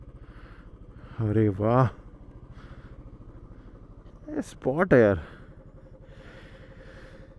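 A motorcycle engine idles steadily on a Marathi motovlog ride from Mumbai to the Bhutavali dam camping point near Karjat, a low continuous throb running beneath two short bursts of talk.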